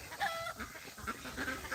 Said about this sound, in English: I have a chicken over here hollering.